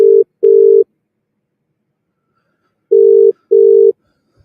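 Telephone line tones after dialing out while the line connects: two pairs of short, steady, loud tone bursts separated by a long silent gap, with no other sound.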